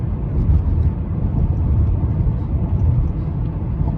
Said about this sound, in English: Hear it going over bumps and stuff.